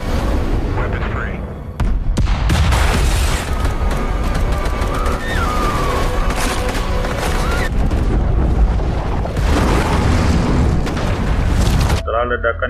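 Explosions from fighter jets bombing a city in the film The Tomorrow War, loud repeated booms and blasts in a continuous dense barrage with a narrator speaking over them.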